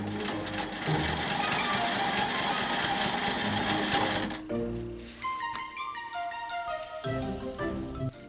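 Sewing machine quilting around the outer circle of a mandala design, a loud steady rapid stitching drone for about four seconds, then stopping, leaving softer chiming tones and light clicks.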